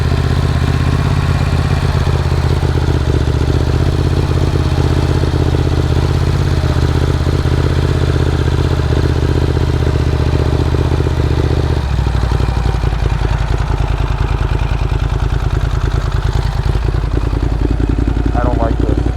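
Motorcycle engine running loudly up close at a steady idle, then dropping to a lower, rougher rhythm partway through as the RPM changes, with voices talking over it.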